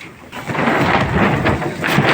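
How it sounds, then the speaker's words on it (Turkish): Loud, continuous storm noise, a dense roar of rain with rumbling gusts that swell and ease throughout, no voices. "Felaket rüzgar var, fırtına var"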